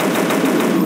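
Rapid automatic gunfire from a dinosaur hunting video game, a dense, loud burst of shots packed tightly together for the full second.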